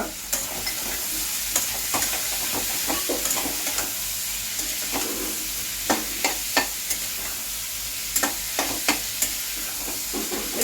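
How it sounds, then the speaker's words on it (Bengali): Chicken pieces fry in a pan with a constant loud sizzle, while a utensil stirs and scrapes in irregular clacks and knocks, close and without talk. "চিকেনটা আমার মোটামুটি ভাজা হয়ে গেছে আর বেশি ভাজার দরকার নেই"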